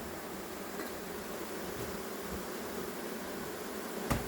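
A large swarm of honey bees recently settled at Vaux-le-Pénil, heard up close as a steady, dense buzzing drone that fills the whole clip without a break.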